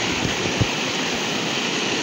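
River water rushing steadily outdoors in a forest, a broad continuous wash with a few soft splashes and bumps near the middle, no voices heard.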